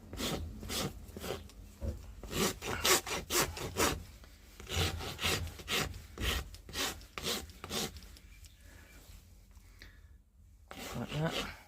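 A rasp files the hoof of a young Thoroughbred cadaver leg smooth in repeated rough scraping strokes, close and fairly loud, while a person talks between passes.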